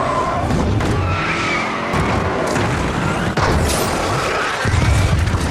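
Film stunt car lands hard after flying off a bridge, then skids and accelerates away: heavy thumps and crunching impacts, tire squeal and a rising engine roar, loud and close, ending in a revving burst.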